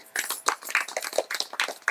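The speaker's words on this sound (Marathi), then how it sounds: "टाळ्या वाजत ताईंसाठी" Audience clapping for a woman, quick irregular claps from several people, fairly faint, with no talking.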